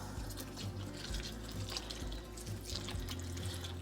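Water poured from a small container onto the soil of a potted plant, a continuous trickling and dribbling with soft drips, close and fairly quiet, heard alone without speech.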